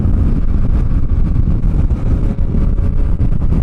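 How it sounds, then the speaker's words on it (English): A motorcycle with a stock exhaust pipe rumbles steadily at speed, its deep, continuous drone heavily buffeted by wind noise on the microphone throughout, with no talking. "the exhaust note for a stock pipe sounds tremendous"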